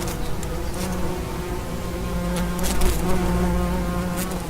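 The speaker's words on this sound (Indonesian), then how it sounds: "tidak satupun lebah menyengat Sastro, padahal ribuan lebah sudah hinggap di kepalanya" A swarm of thousands of honey bees in Sumatra gathers on a young man's head, giving off a dense, unbroken buzzing hum that sounds close and fairly loud throughout.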